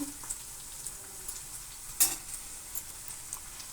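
Onions with ginger garlic paste fry quietly in a pan for a vegetable curry, a soft steady sizzle with a single sharp clink of a utensil partway through.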